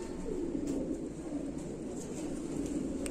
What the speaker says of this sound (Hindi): शेखों वाली कबूतरी है।